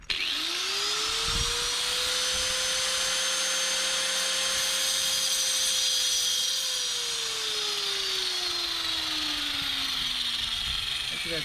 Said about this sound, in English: we get my cut off wheel for the rest of it